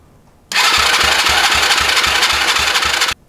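A cheap ATV engine with its choke pulled on kicks into life after a quiet moment, then runs loud and close with a rough, pulsing idle before cutting off abruptly.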